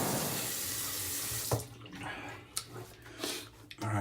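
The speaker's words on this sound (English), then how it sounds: "just did my warm water, cold water rinse" Tap water runs from a faucet into a sink for a warm then cold rinse of shaving gear, a steady close rush broken by brief splashes and clatter toward the end.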